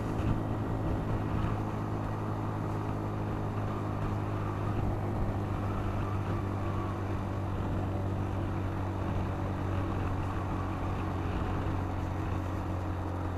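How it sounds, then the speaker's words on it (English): A vehicle engine labours at wide-open throttle in second gear while climbing a steep hill, a steady low chugging drone that holds loud and even throughout with no talk over it. "Throttle wide open, second gear, just let her chug."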